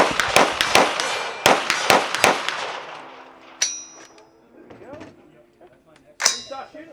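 Suppressed CMMG rifles in .308 and 5.56 fire outdoors, a rapid string of sharp, loud cracks with metallic pings. Quieter scattered shots and ringing steel-target clangs follow with short gaps.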